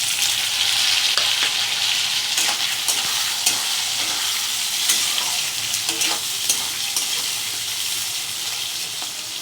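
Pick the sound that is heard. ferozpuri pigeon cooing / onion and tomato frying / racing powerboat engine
onion and tomato frying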